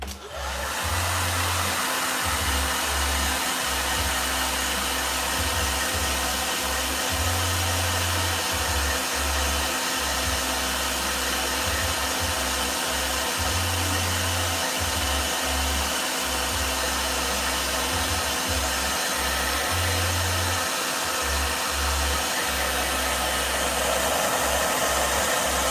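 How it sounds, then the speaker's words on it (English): A handheld blow dryer runs continuously and loud at close range for the whole stretch, a steady airy roar with a low motor hum that pulses slightly as it is moved, with no one talking. "I just found out that in the art school room there was a blow dryer, so if I ever use it, I'm just gonna say blow dryer."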